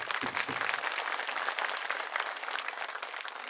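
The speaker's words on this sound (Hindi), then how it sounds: "मैं चाहूंगा हमारे कार्यकर्ताओं के लिए सबसे पहले एक बार जोरदार तालियां आप लोग बजाइए।" A political rally crowd applauds loudly and continuously, dense clapping from many hands filling the space at an even level throughout.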